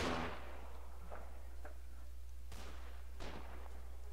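Gunshots ring out in the Mount & Blade Anglo-Zulu War video game, about six sharp reports at irregular intervals, some close and others more distant, over a steady low background hum.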